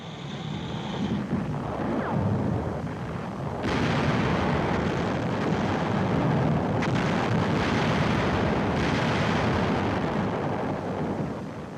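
Intense artillery fire in a battle over a hill, a continuous heavy roar of explosions and booming blasts that stays loud and dense throughout with no speech.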